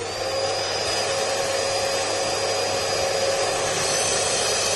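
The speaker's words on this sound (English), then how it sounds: "I'm going to give it a good vacuum." A loud, steady vacuum cleaner with a brush attachment whines continuously at close range over a leather lounge suite, an unbroken droning hum with a high tonal edge and no voices.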